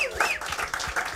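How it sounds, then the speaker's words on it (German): Studio audience applause at a celebrity talk show in Dinslaken, a short burst of clapping with voices mixed in. "Nochmal großen, großen Applaus."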